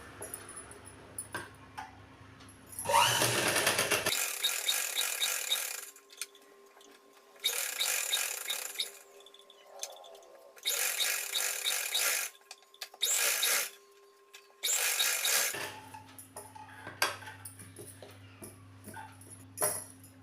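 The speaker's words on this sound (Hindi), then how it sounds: "आइए इसकी सिलाई करते हैं। इसकी सिलाई, ये बकरम जो है, ये बकरम के ठीक नीचे नीचे से बकरम से सटाते हुए हमें इसकी सिलाई लगानी है।" A sewing machine stitching a blouse along its buckram edge runs in several short bursts of steady mechanical whirring, loud and close, with quiet pauses between runs.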